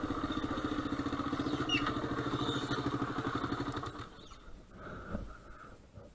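A motorcycle fitted with a Geo Tracker exhaust idles with a steady, throbbing exhaust putter that fades out partway, leaving quieter background noise and faint clatter.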